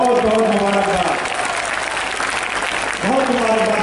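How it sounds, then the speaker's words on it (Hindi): A crowd applauding at a Samajwadi Party political rally, continuous clapping heard beneath a loud amplified voice speaking over it. "उनकी पूरी टीम को दिल की गहराइयों से बहुत बहुत तालियां बजाइए आप लोग।"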